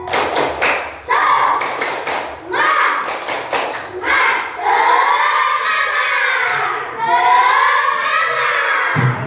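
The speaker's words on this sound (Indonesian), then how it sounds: "Tepuk semangat." Schoolchildren at an Indonesian elementary madrasah stand and perform the tepuk semangat clapping chant, with sharp rhythmic claps at first, then loud sustained group chanting and shouting in a classroom.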